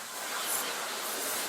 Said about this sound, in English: I'm just going to spray these all over with white.